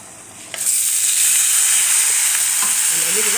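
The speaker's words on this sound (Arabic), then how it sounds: "نقلب بقى الرز كده لما يحمر" Rice and vermicelli fry loudly in a pan with a steady hiss and crackle. The sizzle jumps up suddenly and keeps going while the food is stirred, with faint scraping under it.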